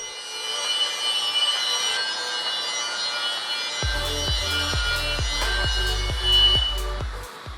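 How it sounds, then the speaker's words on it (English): Wire wheel grinding surface rust and mill scale off steel roll-cage tubing, a harsh steady whirring abrasion that runs throughout, with a rhythmic series of low knocks and pulses joining in partway, near and loud, no voices. "step 2 is to wire wheel any surface rust and mill scale off"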